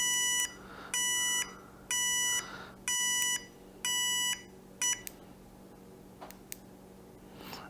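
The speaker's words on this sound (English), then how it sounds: "then we'll do left and right, and it does have a beeper." A GOTINSN bike tail light's turn-signal beeper sounds a series of steady electronic beeps, about six even pulses in a regular rhythm, then a few faint clicks, close and clear.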